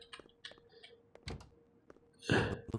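A door in a train station within a video game, heard as a series of dull thunks and clicks that end in a louder, heavier bang, with no talking.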